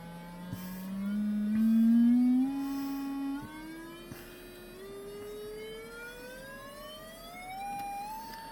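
Test tone from an audio generator, a pure steady whistle sweeping slowly upward in pitch, fairly loud at first and then softer, with faint clicks along the way.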